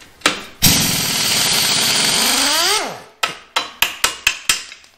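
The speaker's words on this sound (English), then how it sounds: "Let's see how it likes my snap-on air gun trying to come off." Snap-On air impact gun working tight nuts loose on a Nova: one sustained loud rattling burst that winds down, then a quick run of sharp, close hammering blows, with no talk.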